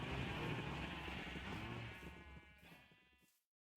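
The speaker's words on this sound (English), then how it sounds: "Hello, loud sheep and loud cows." A Minecraft sheep bleats in a loud, wavering cry lasting a few seconds before cutting to silence.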